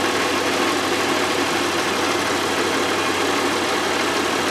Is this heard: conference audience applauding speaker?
no